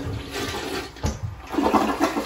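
A toilet flushes in a rushing, gurgling burst of water, close and fairly loud, swelling toward the end with no voices over it.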